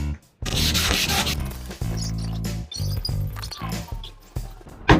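Plywood is hand-sanded with 220 grit sandpaper in close, repeated rubbing strokes broken by brief pauses.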